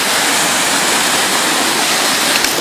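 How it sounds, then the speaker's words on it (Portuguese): A waterfall at Cachoeira do Roncador in Brazil roars with a steady, dense rush of falling water, loud and close and heard alone. "Quero que vocês sintam o momento comigo dessa cachoeira bela aqui que estamos curtindo agora."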